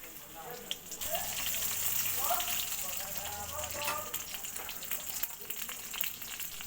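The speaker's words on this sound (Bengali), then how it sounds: "আলুটাকে আমি ভালো করে ভেজে নেব।" Cut potatoes frying in oil in a kadai, a steady loud sizzle with stirring and scraping, while a voice talks over the cooking.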